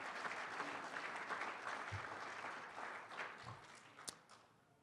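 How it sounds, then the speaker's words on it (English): Steady applause from a crowd at an awards gala, broad and sustained throughout, with a few sharper claps standing out near the end. "Give that a nice round of applause."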